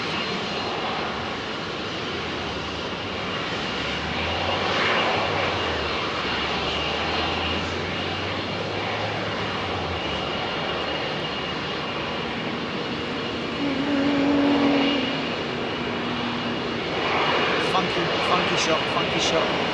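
A fully loaded airliner takes off from runway 27R at London Heathrow. Its engines give a loud, sustained roar that rises and falls in waves, and voices talk over it.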